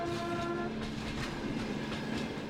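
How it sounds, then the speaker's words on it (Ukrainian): A train pulling in, with a steady rumble of railway wagons and a faint hint of a horn tone, heard continuously and fairly close throughout. "Одного дня потяг прийшов"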